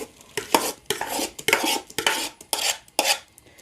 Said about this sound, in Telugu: దీని మీద బాండి పెట్టేసేయాలి. పెట్టేసి ఇప్పుడు ఏం చేయాలంటే మనం ఈ లేహాన్ని మొత్తాన్ని ఇందులో వేసేసుకోవాలి.